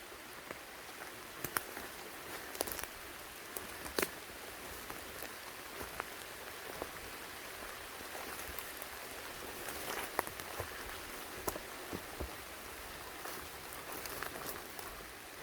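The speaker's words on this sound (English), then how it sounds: "Here comes the rain." Rain falls steadily on a wooded mountain hillside, a soft continuous patter with scattered louder drops striking leaves and surfaces nearby, no voices.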